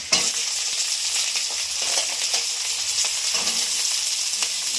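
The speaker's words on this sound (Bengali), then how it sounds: "কুদরি দিয়ে দিচ্ছি।" Ivy gourd goes into a pan of shrimp and chopped onion frying in oil, giving a steady, close sizzle with light stirring scrapes.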